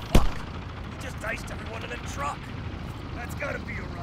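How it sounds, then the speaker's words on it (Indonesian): Gunfire in the video game Call of Duty: Black Ops Cold War: one sharp loud shot at the start, then scattered fainter shots and rumbles underneath people talking. "karena nembak-tembakannya itu sangat keras suaranya"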